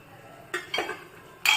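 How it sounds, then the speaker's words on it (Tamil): Beetroot and carrot halwa stirred in a pan over low heat: a few short scraping, clinking strokes of a spoon against the pan, with a sharper, brighter scrape at the end, in a quiet kitchen and no talk. "இப்போ சிம்மில் வச்சு நல்லா கிளறுவோம்"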